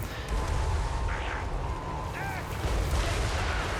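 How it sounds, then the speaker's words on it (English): Chaos Dwarf magma cannons fire in a Total War: Warhammer 3 battle, deep booming blasts over a constant dense battlefield din. "You gotta love those magma cannons."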